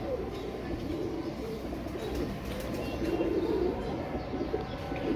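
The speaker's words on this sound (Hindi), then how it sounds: "ये फकीर गुल कबूतर" Fakeer Gul pigeons cooing, soft low repeated coos over a steady background murmur, fairly close.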